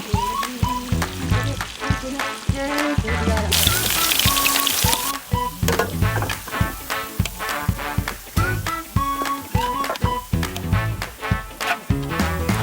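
Potato pieces fry in a little hot oil in a pan, a steady bubbling sizzle with crackling pops and spatter throughout, and a brief louder hissing surge partway through, with no talk.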